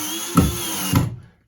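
A power driver tightens a new electrical outlet box into a wall, whirring steadily up close in two pulses as the box's tabs cinch down, then stopping abruptly.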